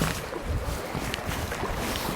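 A kayak paddle moves through a tiny gap between rocks, with close water swishing and a few soft knocks against a steady wind-like wash, no voices.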